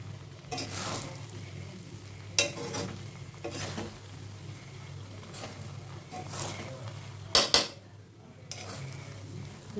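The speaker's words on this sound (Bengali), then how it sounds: "এই যে গুঁড়ো মশলা যে করেছিলাম সেই মশলাটা একটু দিয়ে একটু মিশিয়ে নেব।" Ground spice being stirred into chicken pulao in a cooking pot, with metal utensil scrapes and clinks against the pot over a low steady hum, with a couple of louder knocks near the end.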